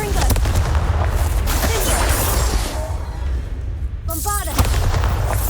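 Spell explosions in Hogwarts Legacy, a continuous run of heavy booms and blasts with a crackling rumble, a brief drop near the end and then another burst, with a voice shouting a spell.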